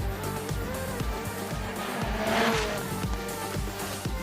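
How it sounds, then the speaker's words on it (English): FC2 race cars on Pirelli tyres launching off the line on fresh tarmac at the Race of Champions, engines roaring with a rising whine and a brief tyre squeal. "But the Pirelli tyres gripping into this fresh tarmac, all four wheels launching the FC2s off the line."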